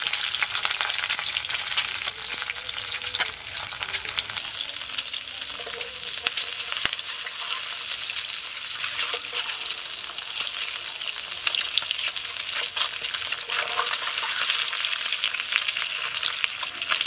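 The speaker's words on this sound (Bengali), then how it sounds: "এবার আমি ডিমগুলো ভেজে নিচ্ছি।" Home-raised duck eggs fry in hot oil with a dense, continuous sizzle and crackle, close and steady for the whole stretch, with faint spatters and no voices.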